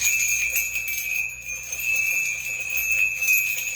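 A small hand bell rings during an oracle reading to clear energy, sustaining a steady, bright, shimmering tone with ringing overtones that carries evenly throughout.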